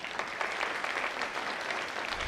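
Audience applause at a breast cancer medical symposium, a dense steady clatter of many hands filling the room at even loudness throughout, with no voices over it.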